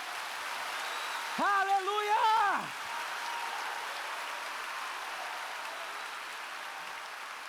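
A church congregation applauding, a continuous wash of clapping hands throughout, with one voice briefly shouting over it near the start.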